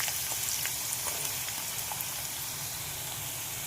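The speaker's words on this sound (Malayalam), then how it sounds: "സവാള അരിഞ്ഞത് ഇതിലേക്ക് ഇട്ട് കൊടുത്ത് ഒന്ന് വറുത്ത് കോരിയെടുക്കാം" Sliced onions deep-frying in oil, cooked golden brown as for biryani or a Kerala-style chicken curry: a dense, crackling sizzle with tiny pops, close and steady from start to finish, with no voice.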